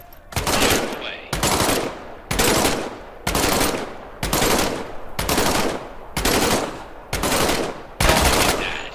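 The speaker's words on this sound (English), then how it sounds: "Reach over your shoulder and grab your M1A1 submachine gun." An M1A1 submachine gun fires in the Medal of Honor VR game as eight loud, evenly spaced bursts of rapid shots, each about a second long with short gaps between them.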